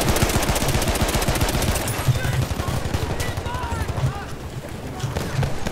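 Rapid automatic gunfire from the Battlefield 1 video game rattles in continuous bursts, dense and loud, with faint in-game voices and effects mixed in.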